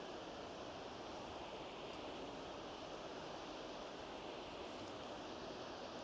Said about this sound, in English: Just listen to the sound of the sea.